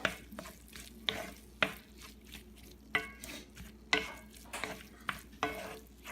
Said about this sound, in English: And mix this well.